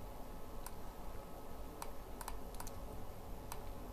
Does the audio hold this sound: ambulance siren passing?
no